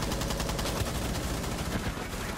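In Rainbow Six Siege, a weapon fires through a wall in a rapid, loud automatic burst, closely spaced shots that hammer on without pause.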